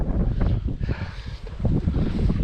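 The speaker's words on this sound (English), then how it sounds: "That wind is so strong" Strong gusty wind buffets the microphone during a ride on a 1000-watt, 48-volt electric bike conversion, a loud, irregular rumbling roar throughout.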